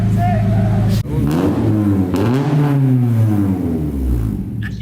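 An Acura RSX fitted with a PLM header and Skunk2 Megapower RR 3-inch exhaust revs aggressively up and down, loud and close, with voices talking alongside it.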